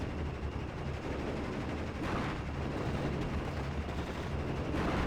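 Dense rifle and machine-gun fire from a World War II strategy game battle between airborne troops and German panzer forces, a continuous dull crackle of shots layered with distant booms, steady and loud throughout with no talk.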